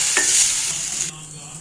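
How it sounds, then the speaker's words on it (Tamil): Food sizzles and hisses in a hot pan while being stirred, the frying noise loud at first and then dropping to a gentler crackle. "எல்லாத்தையும் ஒரு வதக்கு வதக்கலாம்"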